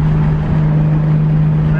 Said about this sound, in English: open throttle, it's hitting boost